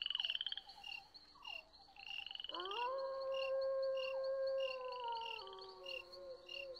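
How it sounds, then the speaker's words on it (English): Frogs croak out in wild country, first in short repeated bursts and then in a long drawn-out call. A high insect-like trill pulses steadily beneath them, moderately quiet and without speech. "And frogs."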